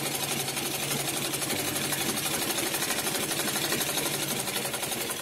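An electric sewing machine stitching a girl's three-piece step skirt, a fast, steady mechanical chatter of the needle with a low motor hum underneath, close and continuous for the whole stretch without pause.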